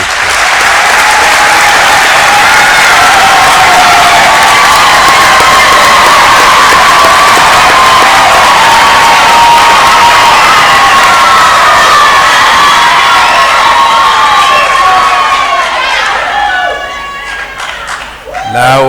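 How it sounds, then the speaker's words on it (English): Families and friends at a health sciences graduation ceremony clap and cheer loudly for nearly twenty seconds, with whoops and children's shouts mixed in before the noise thins at the end. "can again the families, the parents, the friends, give another round of applause"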